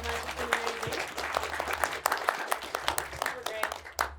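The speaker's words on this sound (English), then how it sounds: "A big warm applause from Patrick and Anushka." Audience applause at a 2024 talk session honouring two presenters, a moderate clatter of many hands clapping steadily throughout with a low background hum.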